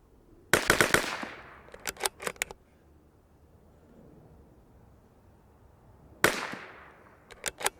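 A Bergara BMR X .22LR rimfire rifle fires two sharp, close shots several seconds apart, each followed by a quick run of metallic clicks, with quiet pauses between.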